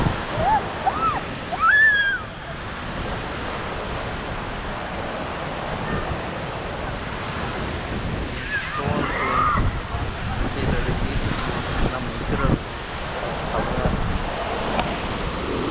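Sea waves wash onto a Pondicherry beach with steady surf and wind buffeting the microphone, a continuous rushing wash under occasional voices nearby.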